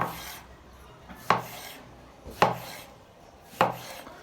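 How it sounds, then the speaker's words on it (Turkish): A knife slices peeled eggplant thinly on a board for a Kilis tava dish: three crisp, evenly spaced cuts, each a sharp close thud with a short scrape, alone in a quiet kitchen. "bu şekilde ince ince doğruyorum"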